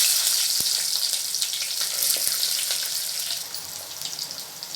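Small shallots drop into hot oil already frying mustard seeds, fenugreek and vadagam, giving a loud, dense, continuous sizzle with a single sharp knock near the start.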